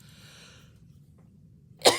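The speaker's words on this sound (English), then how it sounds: "I feel a sneeze coming on" A single sharp sneeze bursts out at the very end after a quiet stretch of low background noise.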